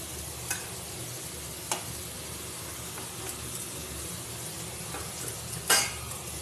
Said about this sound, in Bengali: আলুটা তুলে একটু কুমড়োটা এই তেলেই ভেজে নেব।